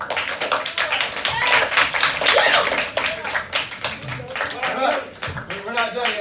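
Students in a classroom give themselves a round of applause, a loose burst of close, sharp hand claps that rises and fades over several seconds, with voices mixed in.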